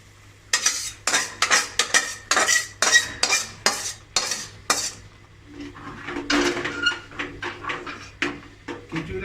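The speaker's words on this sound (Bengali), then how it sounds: "খিচুড়িটা ভালো করে নেড়ে দিচ্ছি মশলাটা দিয়ে।" A spoon stirs khichuri with fried spice paste in a metal pot, producing a rapid series of sharp scraping clanks in a steady rhythm, close and clear, then softer, irregular scrapes toward the end.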